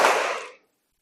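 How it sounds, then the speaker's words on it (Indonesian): A single sharp hand clap in a classroom clapping game, crisp and quick, fading out within about half a second and followed by silence. "Tepuk satu."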